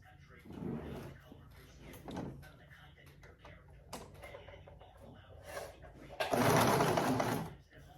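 Domestic sewing machine stitching sleeves into a shirt, short mechanical bursts of whirring separated by pauses, the longest and loudest run near the end, with some speech and handling noise in between.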